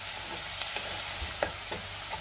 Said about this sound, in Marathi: आता आपण त्यामध्ये हिरवी मिरची, लसूण आणि जिरे आपण जे मिक्सरला बारीक करून घेतले ते घालायचे आणि पुन्हा 1 मिनिटभर चांगलं परतून घ्यायचे